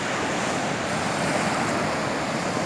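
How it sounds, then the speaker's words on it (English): Ocean waves at Kuta Beach in Indonesia wash in with a continuous, loud surf roar mixed with wind buffeting the microphone, with no talking. "You can see the water waves are coming."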